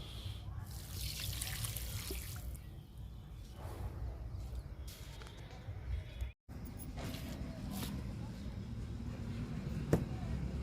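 A homemade liquid tonic is poured onto dull potted plants at home, making a soft, steady trickle and splash of liquid soaking into soil, fairly faint, with a brief break midway and a voice murmuring in the background.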